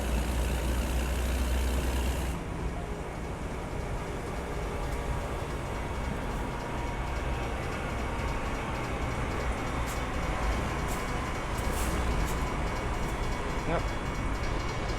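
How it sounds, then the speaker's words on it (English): A loud train passes in American Truck Simulator, with a continuous heavy rumbling and rattling of rail cars beside an idling truck engine, and a few faint clicks over the steady roar. "this is a very loud train"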